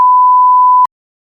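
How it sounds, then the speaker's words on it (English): A single loud, steady censor bleep, a pure electronic tone that holds for under a second before cutting off abruptly into silence, dropped over podcast chatter. "I'm just gonna have to bleep that now"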